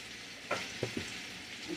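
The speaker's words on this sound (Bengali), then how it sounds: "একটু নুন হলুদ দিয়ে আলুটা ভাজতে ভাজতে আমার তরকারি রেডি হয়ে যাবে" Potatoes fry in a pan with salt and turmeric, giving a steady soft sizzle broken by three or four brief scraping stirs, close and moderately quiet, with no voices.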